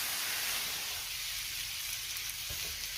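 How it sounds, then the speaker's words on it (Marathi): Thalipeeth flatbread laid on an oiled tava over a gas flame sizzles steadily in hot oil, a broad bright hiss, with a soft thump near the end. "आता हे थालीपीठ मी तव्यावर टाकते"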